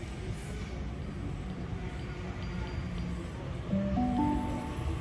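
An A1 train rumbles steadily as it arrives at Harris Park station, its low drone building louder near the end with tonal squeals and hums as it pulls in.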